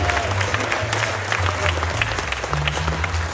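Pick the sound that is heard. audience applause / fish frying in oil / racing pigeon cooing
audience applause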